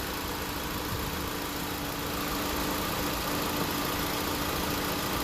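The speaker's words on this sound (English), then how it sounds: "So you can hear the compressors on" A 2016 Honda Civic idles with its air conditioning compressor engaged during a 1234YF refrigerant recharge, giving a steady, dense mechanical hum and whir heard close and continuous, with no talking.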